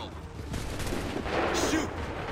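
Musket gunfire from an Assassin's Creed 3 battle, a dense volley of overlapping shots that rumbles for a couple of seconds at steady, fairly loud level, with faint voices mixed in.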